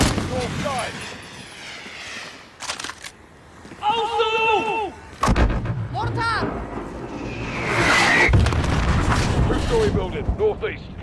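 Mortar fire and battlefield combat in the video game Modern Warfare, with booming blasts and heavy rumbling under shouted soldier voices and radio chatter throughout.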